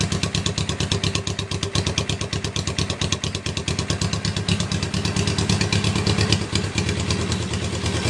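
A Honda CB350 cafe racer motorcycle engine running at a steady idle, with a loud, close, rhythmic pulsing exhaust beat and mechanical clatter, and no talk.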